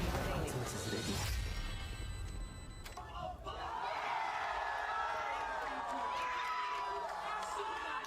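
Esports arena crowd cheering during a VCT Americas Kickoff match, a broad roar mixed with crashing game effects and talk, dipping briefly before swelling again.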